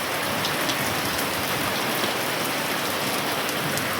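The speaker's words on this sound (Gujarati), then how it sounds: "અમારે તો વરસાદ પણ ચાલુ થઈ ગયો છે." Steady rain pours on a surface during a truck driver's roadside stop, a dense even hiss that stays constant and fairly close throughout, with no voices.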